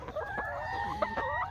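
Chickens cluck in a short run of throaty calls, faint and somewhat distant, with no talking.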